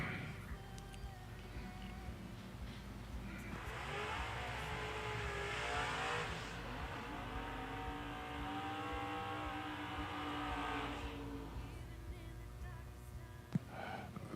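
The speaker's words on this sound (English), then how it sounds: "First pair out in door cars is going to be a pair of Corvettes" A pair of Corvette door cars, one a roadster and one with its roof intact, launching down a drag racetrack, engines rising to a loud roaring run that fades away, heard from a distance.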